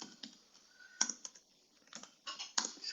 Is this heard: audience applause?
no